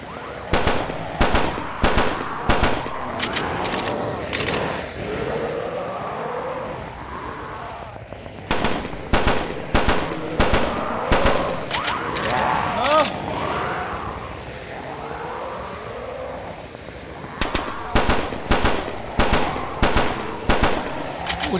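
Rapid automatic gunfire from the PS5 shooter Blood Waves comes in repeated clusters of sharp bangs separated by quieter stretches, with someone talking excitedly over the game.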